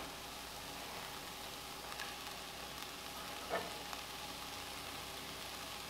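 Onions and vegetables fry in a pan as kale goes in, making a steady, faint, close sizzle with one brief stirring knock midway and no talking.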